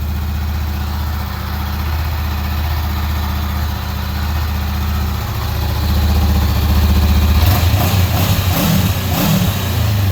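A stock 2019 Honda CBR500R parallel-twin sport bike idles close by with a steady, tame low thrum, then swells slightly louder with some rougher pulsing in the last few seconds.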